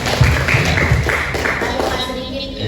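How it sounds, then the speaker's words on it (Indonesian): Applause for a woman resource person at an Indonesian BKKBN family-program event, with hands clapping steadily through a busy hall alongside background talk and murmur. "jadi kita berikan dulu aplaus kepada Ibu narasumber"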